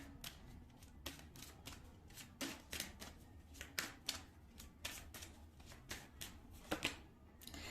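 Tarot cards are shuffled and drawn by hand in a quiet room, giving a steady run of crisp papery snaps and riffles at close range with no voice over them.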